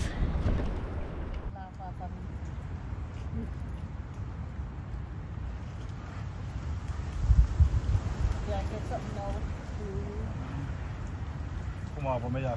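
Strong wind gusting across a fishing inlet on the coast, a steady low roar of buffeting air near the microphone that persists throughout, with a voice briefly audible at moments.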